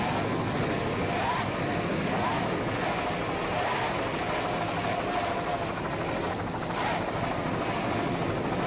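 Offshore racing powerboats, including a 31-foot Conquest catamaran, roar at full throttle during a grand prix race off Sarasota, Florida, a loud, continuous, dense engine drone that holds steady with only slight swells.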